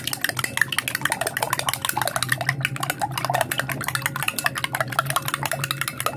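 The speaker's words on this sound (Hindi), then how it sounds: "मैंने 5 अदद लिए अंडे। अब इसे अच्छी तरह फेंट लेंगे।" Five eggs are whisked briskly in a bowl for a pizza, a fast, steady run of light tapping and sloshing strokes, close and fairly loud, with no talking.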